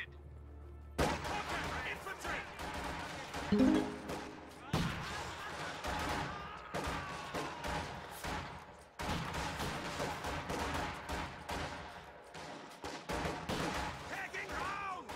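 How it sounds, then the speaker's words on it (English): Gunfire crackles through a World War II strategy video game battle, with rapid bursts of rifle and anti-tank rifle shots and thuds over several seconds while a commentator talks over it. "Sib throwing 3 PTRSs on those conscripts already"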